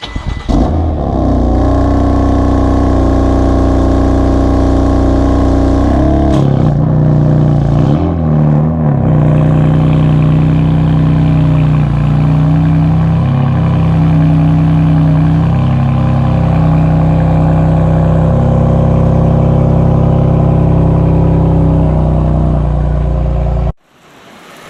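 A BMW M3 engine hums and revs close by as the car drives, its pitch rising and falling through gear changes over a sustained, loud drone before cutting off abruptly near the end.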